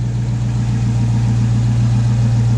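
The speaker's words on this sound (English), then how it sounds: "That cold AC let you kind of hear the motor." The Hemi V8 engine of a 2007 Jeep Wrangler Rubicon Unlimited idles with a steady, deep, loud rumble, close by and unchanging throughout.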